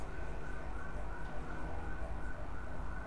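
A faint, far-off fire engine siren drones continuously through steady traffic-like background noise, with no voices.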